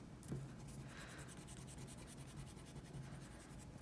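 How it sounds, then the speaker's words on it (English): A pencil drawing and darkening lines on paper for a two-point perspective room sketch: soft, continuous scratchy strokes, close but faint, with a brief sharper tap near the start and no talking. "I'm going to go back in and darken the lines that are important to my final version."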